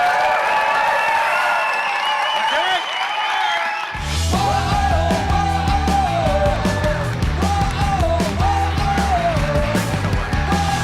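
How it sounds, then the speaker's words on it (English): Audience at an Omaha pitch event cheers, whoops and yells for the startup Hustle Bike Labs, loud and close, with rhythmic music swelling in beneath the crowd. "Are you ready to give a big Omaha cheer from Hustle Bike Labs"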